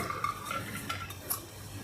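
Soaked chana dal poured into a steel mixer jar, a soft rattling pour with light clinks of grains against metal, close and fairly quiet, with no talking.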